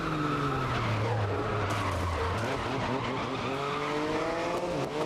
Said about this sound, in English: I'm surprised I managed to stop the car